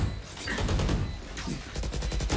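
Bursts of rapid gunfire crackle in quick repeated volleys, dense and loud, in a Valorant match.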